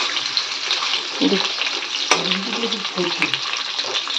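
Cabbage and potatoes added to a hot frying pan, with steady oil sizzle, stirring scrapes and a few sharper clatters of utensil on pan, loud and close.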